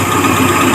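A Suzuki Katana engine idles steadily at close range while its carburetor is checked, giving a constant, even mid-pitched running hum with no talk over it.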